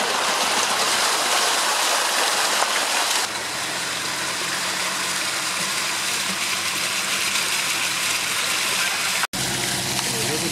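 Floodwater in the Lagkadas area rushes past in a loud, continuous broadband roar, steady throughout with a brief dropout near the end and a faint engine hum beneath.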